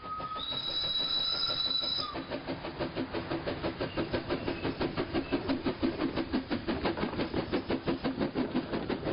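A steam tank locomotive labours steadily up a gradient between Tence and Trifouloux, France, with rhythmic chuffing exhaust beats, preceded by a brief whistle; loud and close, no voices.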